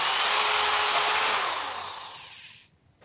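A power drill boring a hole near the end of a bamboo slat, a loud close whirring whine that holds steady, then fades and stops near the end.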